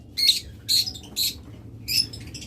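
Pet lovebirds, a pair kept at a bird farm, give four sharp, bright squawking calls in quick bursts, close by, with no talking over them.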